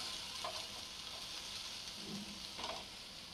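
Sponge gourd frying in a pan over a low gas flame gives a steady soft sizzle, broken by a couple of light scraping stirs.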